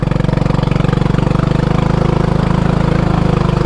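A Honda four-wheeler ATV fitted with dual wheels and tires chugs through mud, its engine giving a steady, loud, close low-pitched throb with an even rhythmic pulse throughout.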